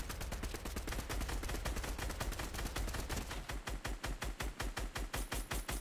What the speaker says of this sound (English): I'm trying to shoot, bro.